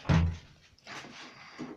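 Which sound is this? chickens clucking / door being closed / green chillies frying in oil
door being closed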